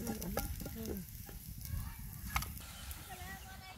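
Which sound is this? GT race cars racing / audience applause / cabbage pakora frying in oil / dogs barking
cabbage pakora frying in oil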